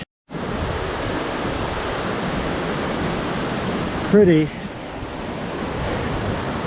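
Steady broadband roar of water rushing down a steep mountain creek on trails near Squamish, loud and continuous throughout, with a brief voice heard over it near the end.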